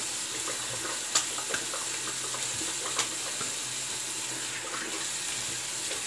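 Tap water runs steadily into a sink while rinsing after a wet shave, a constant close splashing stream with a few faint clinks, no voices.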